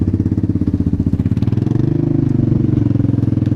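A four-wheeler engine runs steadily nearby with a rhythmic, chugging idle pulse that stays even, with no talk over it.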